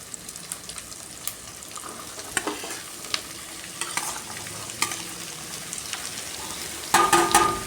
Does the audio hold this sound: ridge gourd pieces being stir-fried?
yes